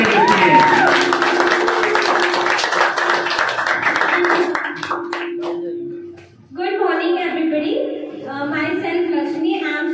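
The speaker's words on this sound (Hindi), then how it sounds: "जोरदार तालियों में मिस लक्ष्मी के लिए जोरदार तालियों में चाहिए" A coaching class audience claps for Miss Lakshmi, a burst of fairly close hand clapping over a held musical tone, tapering off before a voice and other speech take over.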